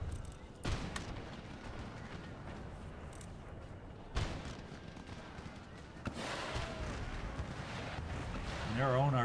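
Artillery firing canister shot in Empire Total War resounds as repeated distant booms over continuous battle noise, with a voice talking throughout.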